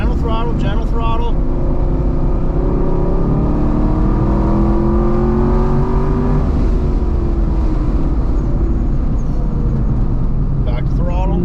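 A 6th gen Camaro fitted with BMR suspension parts laps a road course, its engine droning and rising and falling in pitch through corners, steady and loud, with a voice talking over it.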